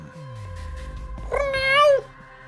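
A cat meows in the video game Judgment, a single drawn-out, rising cry that comes in clearly over steady game background sound with no talking.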